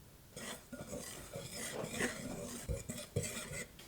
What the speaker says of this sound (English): In a separate bowl, add the flour, baking powder, sugar, and salt. Whisk it all together.